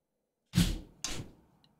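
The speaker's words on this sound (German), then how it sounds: "So, jetzt mache ich die Tür zu." A door is pushed shut in a drum practice room, two quick knocking impacts about half a second apart, close and fairly loud, each decaying briefly, with no talk.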